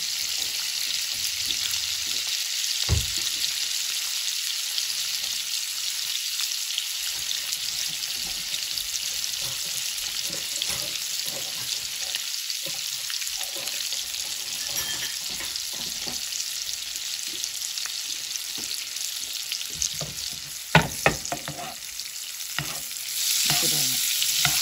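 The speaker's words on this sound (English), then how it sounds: "we're gonna start basting the butter over the salmon." Salmon fillet searing in a pan over low heat while butter is spooned over it, a continuous close hiss of frying with intermittent spoon scrapes and taps against the pan.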